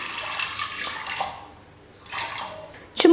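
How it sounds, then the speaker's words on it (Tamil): Water pouring into a pressure cooker over soaked chana dal in a home kitchen, two splashing bursts separated by a brief pause, followed by a short clatter at the end. "கடலைப்பருப்பு முழுகிற அளவுக்கு தண்ணி சேர்த்துக்கலாம்"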